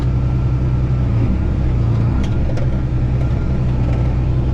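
A John Deere 8400 tractor engine drones steadily and close-up while driving through its gears, a low, even rumble with faint clicks and no speech.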